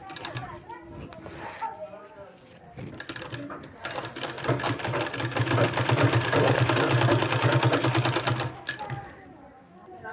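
A sewing machine stitches a 2-inch-wide fabric strip onto a sleeve, running in a loud, steady whir for several seconds after a brief voice at the start, then slowing to a stop.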